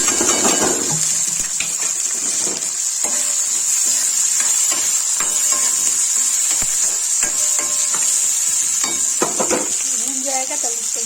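Chopped onion sizzles loudly in hot oil with cumin for bhindi do pyaza, a constant frying hiss broken by scraping and clanking as a spatula stirs the pan, with brief talk over it.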